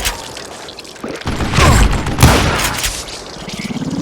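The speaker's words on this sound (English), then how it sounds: "a fusillade of bullets come raining down from on high" A loud, dense volley of gunfire rains down in the Wild West shooter Call of Juarez Gunslinger, bursts of rapid shots and booms swelling and cracking over a few seconds with no voices.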